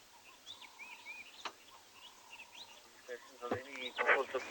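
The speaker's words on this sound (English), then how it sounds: "It's one of two helmet shrike species we get here." Helmet shrikes call from knobthorn trees on a South African game reserve, faint chattering and rising chirps that grow busier and louder toward the end.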